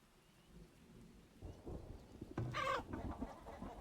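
Chickens cluck in the farming game Farthest Frontier against a backdrop of rain and rolling thunder, faint at first and then building to a louder rumble.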